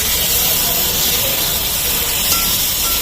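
Egg curry masala sizzles hard after a splash of water, a loud, unbroken hissing roar of steam and frying that stays close and even throughout.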